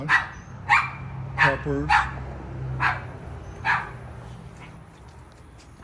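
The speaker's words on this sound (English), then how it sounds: "That's our little dog Milo barking at birds." Milo, a small dog in a home garden, barks at birds in about half a dozen sharp, spaced yaps at close range, one breaking into a wavering yelp, while a person speaks briefly.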